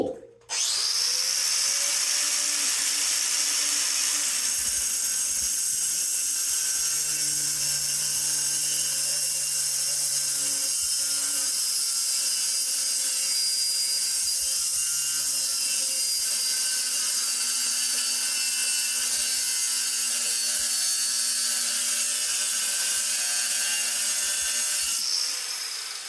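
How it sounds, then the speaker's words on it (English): An indestructible cutting disc grinds through metal tubing with a loud, steady high-pitched whine that runs almost without a break for about 25 seconds and stops abruptly at the end. "let's see how this indestructible disc does against this tubing"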